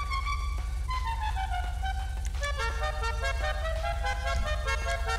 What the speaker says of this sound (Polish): Ten klakson San Andreas jakoś tak nie brzmi dla mnie.